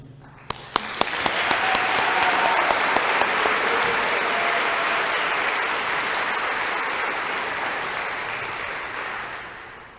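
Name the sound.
audience applause at a school graduation ceremony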